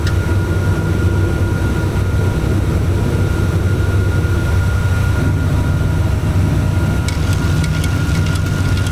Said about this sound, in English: Plane lifts off at about 10 degrees.